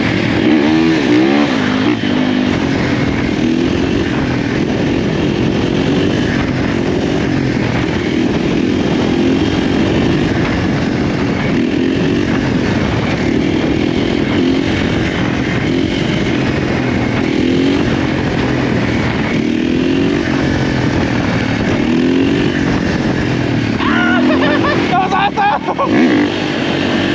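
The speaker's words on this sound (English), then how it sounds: "it's just a burnout and then a wheelie" A supermoto motorcycle on a wet road in a storm does a burnout and then a wheelie, its engine roaring loud and near in a constant high-revving drone with rising throttle surges and wind noise.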